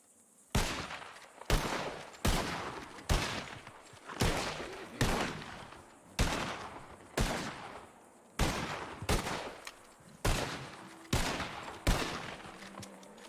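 A steady string of about twelve loud gunshots fires at target practice in Red Dead roleplay, each sharp report spaced roughly a second apart and decaying briefly, heard alone with no talk over them.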